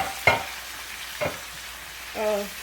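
Vegetables cooking in a pot before saltfish is added, with two sharp stirring scrapes and a brief clatter over a low, quiet frying hiss.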